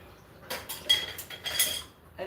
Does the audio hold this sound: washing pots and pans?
yes